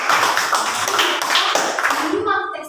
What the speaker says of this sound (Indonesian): Tepuk tangan dulu lah untuk Melvin sama si Fael